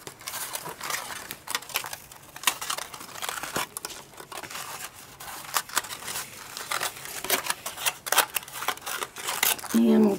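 Scissors trim around a foil collage bird in a quick series of close snips, with crinkling foil and rustling between cuts and a voice talking over them.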